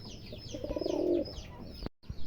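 A big pair of house pigeons coos at a pigeon farm, a short close rolling coo in the middle over faint background chirps, ending with a brief cutoff and a dull knock.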